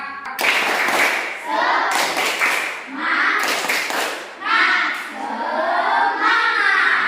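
A class claps in quick rhythmic bursts while children's voices loudly chant "Tepuk semangat" over it, with short pauses between rounds.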